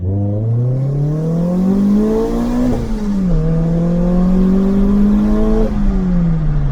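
A left-hand-drive Renault Clio R.S. accelerating hard on an empty road, engine note climbing steadily through two gears with a brief dip at the shift, loud and close with road and wind roar underneath.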